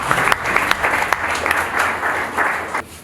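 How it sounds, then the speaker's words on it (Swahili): An audience at an immigration department event applauds the President, a dense, loud wash of many hands clapping together, sustained for a few seconds before cutting off abruptly near the end, with no speech over it. "Tunamshukuru sana Mheshimiwa Rais, naomba tumpigie makofi mengi."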